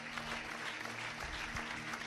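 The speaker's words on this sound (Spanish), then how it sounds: "si usted recibió eso, un aplauso usted da" Church congregation clapping during a sermon, a dense, even burst of applause from many hands, fairly faint and distant, with a low hum underneath and no talk.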